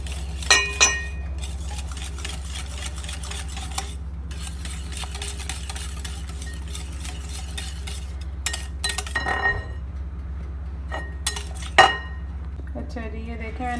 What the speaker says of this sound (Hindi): मैंने विस्कर की मदद से केला और ऑयल अच्छी तरह मिक्स कर दिया।